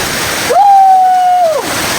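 A limestone waterfall in Antique, steady rushing water close by, with a sustained whistle-like tone rising over it for about a second before the roar continues alone.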